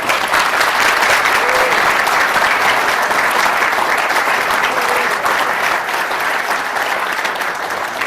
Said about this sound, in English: he should be given a very warm round of applause for that